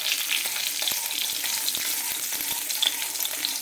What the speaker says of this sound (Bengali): কাঁচা লঙ্কা, পাকা লঙ্কা সব মিলিয়ে দেওয়া হবে, ভীষণ ফাটে।